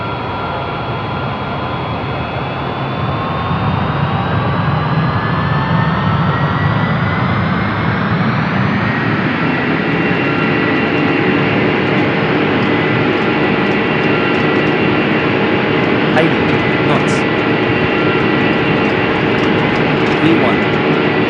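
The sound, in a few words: Singapore Airlines Boeing 787-8 jet engines during takeoff roll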